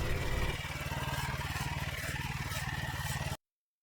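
Modified lawn mower tractor towing a heavy trailer on a test run, its small engine chugging with a rapid, steady pulsing beat close to the microphone before cutting off abruptly.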